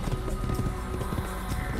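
Horse galloping in Assassin's Creed 1, a steady, quick clip-clop of hooves running under a low, continuous background wash, fairly faint and without talk.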